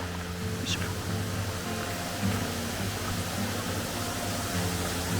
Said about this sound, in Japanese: そしてこちらが東の滝、龍神の滝です。